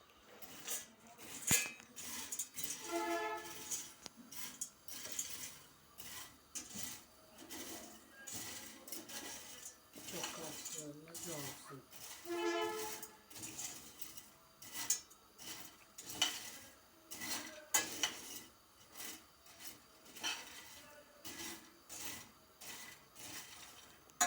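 A spoon scraping and clinking against a pan as pasta is stirred, a steady run of soft rasping and metallic knocks, close but quiet.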